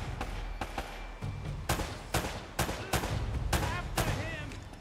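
Gunfire in Uncharted: Drake's Fortune comes as a string of sharp in-game shots at irregular intervals, some clustered and some spaced apart, over a busy, steady background.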